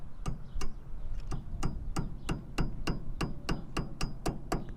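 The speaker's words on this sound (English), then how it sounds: "you can use your hammer to just tap it back in." A metal hammer taps a cotter pin during a brake rotor change on a 1998 Ford Ranger, about fourteen sharp, evenly spaced strikes in quick succession, close and clear over a low background rumble.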